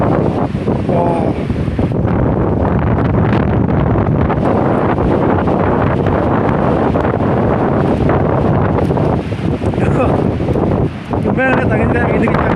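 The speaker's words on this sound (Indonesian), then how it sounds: "Gimana lihat angin kayak gini kencang?" Strong wind at Kintamani, Bali roars and buffets the microphone without pause, loud and close, with gusts swelling and easing throughout.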